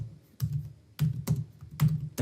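Bursts of typing on a computer keyboard during work in an Excel spreadsheet: clusters of quick close clacks separated by short pauses, near and clear with no talking.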